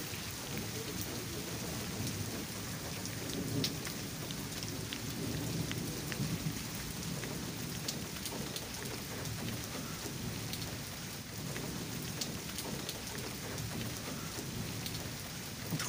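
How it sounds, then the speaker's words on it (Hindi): Heavy rain falls steadily and densely for the whole stretch, a continuous loud wash of drops hitting surfaces, with faint rumbles beneath and no voices. "शदीद बारिश शुरू हो गई है"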